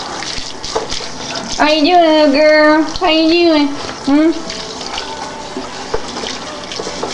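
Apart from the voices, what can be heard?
water splashing in a bath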